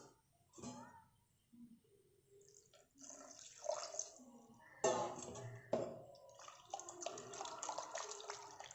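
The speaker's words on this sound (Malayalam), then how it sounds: "ഞാൻ കുറച്ച് വെള്ളം അതിലേക്ക് ഒഴിച്ച് കൊടുക്കുന്നുണ്ട്" Water poured into rice batter for bun dosa, heard as several brief, close splashy pours and trickles separated by short pauses, quiet overall.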